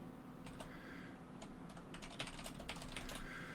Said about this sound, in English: So while he's typing that